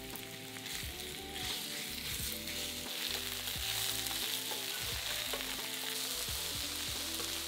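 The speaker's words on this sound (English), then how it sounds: "Add 1/2 the beef and cook for about 6 to 8 minutes, turning regularly until browned all over." Beef pieces browning over medium-high heat in a frying pan for stroganoff, a continuous loud sizzle broken by repeated stirring and turning clatter, with no talk.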